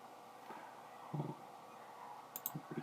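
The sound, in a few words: computer mouse clicking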